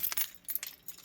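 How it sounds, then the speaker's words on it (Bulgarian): A bunch of keys jangles close by in a few short metallic bursts, rattling as they are dropped into a crocheted handbag, with no one speaking. "Ключове."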